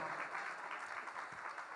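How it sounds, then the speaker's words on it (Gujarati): Audience at a Janmashtami utsav community gathering applauding, a dense, steady wash of clapping from many hands, held evenly throughout and heard from some distance. "ત્રણેયને જોરદાર ડાડા ભેટ તાળીઓના ગણગણથી વધાવી લો"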